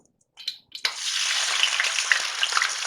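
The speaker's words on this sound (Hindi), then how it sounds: "2 मीडियम साइज़ की प्याज है, उनको मैंने ब्लेंड कर लिया है, ये डाल रही हूँ इसमें।" Blended paste of two medium onions hits hot oil, setting off a sudden loud, bubbling sizzle after a couple of brief clatters, then a steady crackling fry.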